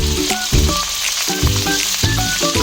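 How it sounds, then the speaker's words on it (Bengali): Chopped tomato with cumin and chilli powder and salt sizzles loudly in a pan while being fried for a prawn and fig dish, with melodic background music playing over the frying. "মশলাটা এবার একসঙ্গে কষিয়ে নেব।"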